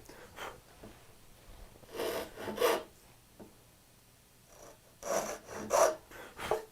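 A hand saw cuts short kerfs for compound dovetails in wood, making soft rasping strokes in small clusters with quiet gaps between them, close and fairly faint.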